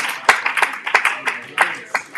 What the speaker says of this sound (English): Let's give a round of applause for those who shared their experiences.